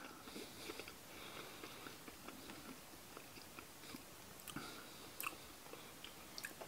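Crunchy pemmican mixed with scrambled egg being chewed close up, a steady run of soft bites and crunches with a few sharper clicks, fairly quiet and with no talking.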